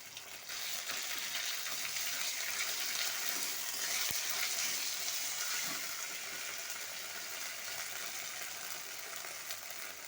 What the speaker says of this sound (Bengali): মশলাটাকে ভাজা ভাজা করে নেব